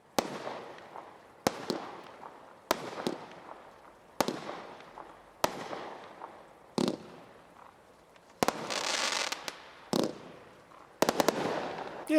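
A Tesco firework cake fires a string of sharp cracking launches, each followed by a crackling, glittery burst at the end of its break, about ten in a steady run with a denser sizzling crackle near the end, moderately distant.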